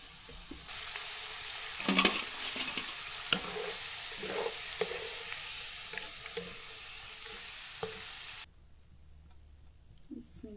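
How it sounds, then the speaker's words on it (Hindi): Food frying for a village Ramadan iftar gives a steady, faint sizzle with small pops and clinks, then drops quieter near the end. "फिर जी मैं फ्राई करूँगी एक साथ।"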